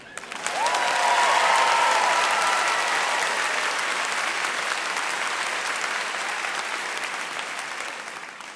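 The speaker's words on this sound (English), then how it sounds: "Everyone, welcome the Mustangs with your loudest cheer." A large elementary school convocation audience gives a loud, sustained ovation for the Mustangs, with dense clapping and a whistle or cheer rising early before the applause holds steady.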